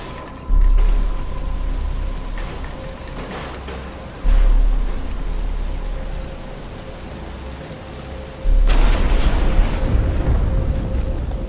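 Steady rain falls in the Batman Arkham Asylum video game while three deep thunder booms roll in at even intervals, each loud and close before fading back into the downpour.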